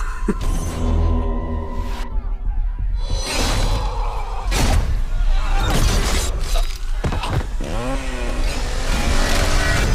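Loud, aggressive chainsaw roaring and revving in a Halloween Kills movie trailer, with crashes and whooshes, a dense, dramatic mix of engine-like buzzing and impacts throughout.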